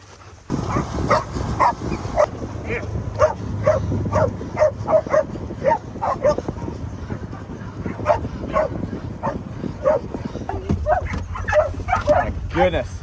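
A dog barks, yips and whimpers again and again through the whole stretch, in short excited bursts close by. A person talks over the dog throughout.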